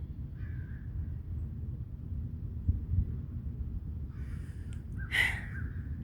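Outdoors, a crow caws once or twice from a distance near the end, faint above a steady low rumble.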